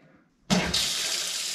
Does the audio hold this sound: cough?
no